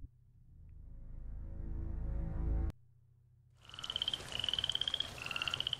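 A frog croaks in the video game The Testament of Sherlock Holmes, a series of raspy, rhythmic calls repeating in quick pulses after a low rumbling ambience cuts off.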